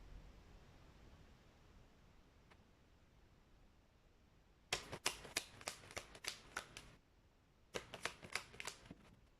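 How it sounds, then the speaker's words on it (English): A deck of tarot cards is riffle-shuffled in two quick rapid bursts of crisp flapping clicks, close and distinct against a faint hiss. "You saw me shuffle."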